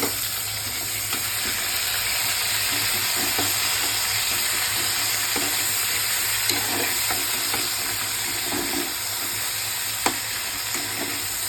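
Nigella seeds sizzle steadily in hot oil for a Tangra fish curry, a constant close frying hiss with small crackles and a couple of sharper pops.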